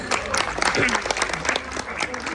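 An audience claps enthusiastically in a lively burst of applause, with voices and crowd chatter mixed in throughout.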